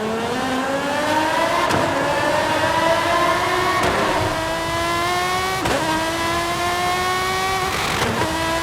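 Essenza SCV12 race car in Forza Horizon 5, its engine revving hard through several rising sweeps, each ending in a sharp gear shift, loud and close throughout with no talking.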